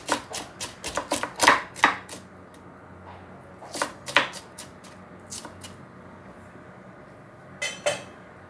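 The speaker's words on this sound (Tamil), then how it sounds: "வெங்காயம் ஒரு மீடியம் சைஸ் எடுத்திருக்கேன். அப்படி சின்னதாக வெட்டி கொள்ளணும்." Knife chopping a medium-sized onion into small pieces on a cutting board, with quick clusters of sharp close taps separated by short pauses.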